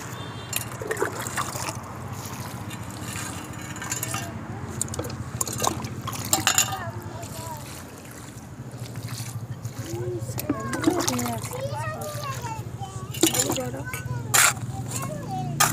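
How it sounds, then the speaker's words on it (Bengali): Water trickles and splashes as it is poured onto loosened potting soil in a plant pot during repotting, a steady wet dribble that runs under a person talking. "এখন আমি জল দিয়ে দেবো।"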